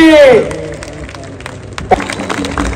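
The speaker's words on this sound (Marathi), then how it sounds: "एकदा टाळ्या होऊन जाऊ द्या" A voice calls out, then scattered claps break out and continue as ongoing applause from an audience at a wrestling honour event.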